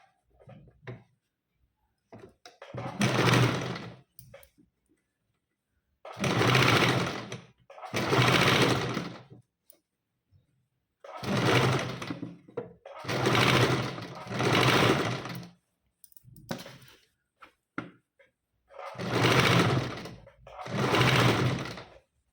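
Sewing machine stitching a frill dress: repeated loud bursts of fast mechanical running, each lasting one to two seconds, separated by short silent pauses, close up and alone.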